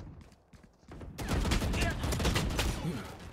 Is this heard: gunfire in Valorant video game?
yes